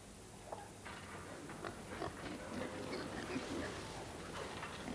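Pigs on a farm grunt and oink in short, scattered bursts over a steady background, moderately close, with faint voices mixed in.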